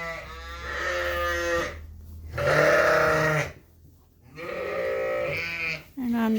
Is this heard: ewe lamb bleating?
yes